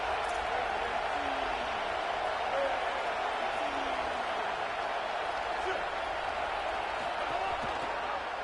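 A stadium crowd in the EA NCAA college football video game roars continuously, a dense, steady wall of cheering that stays loud and unbroken from start to finish.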